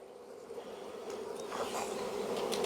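Honey bees in an opened pollination hive, a steady dense buzzing swarm close by that grows slightly louder over a few seconds.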